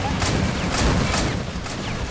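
A missile hits in a green army men battle game set at a bridge, producing a loud, continuous crash and rumble with a few sharper bursts through it.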